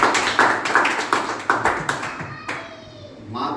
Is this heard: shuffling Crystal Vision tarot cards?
no